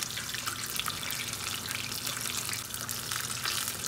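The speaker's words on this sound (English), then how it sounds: "I'm gonna first fry up a little more" Chicken wings deep fry in hot oil for salt and pepper wings, a steady, loud, dense crackling sizzle that stays even throughout with no voices.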